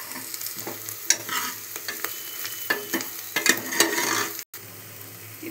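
Garlic, dry coconut, pepper and cumin fry in a pan with a close, crackling sizzle and scraping stirs, cut by a brief silent gap before the sizzling resumes.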